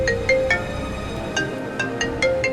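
A mobile phone rings with an incoming call, a repeating electronic tone pattern pulsing at a steady pace, moderately loud over a low background hum.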